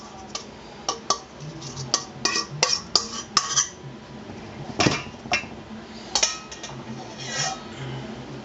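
Homemade Parmesan garlic croutons tossed between two bowls, giving a series of sharp clinks and knocks in an irregular rhythm, close and fairly quiet, with soft rustling between hits.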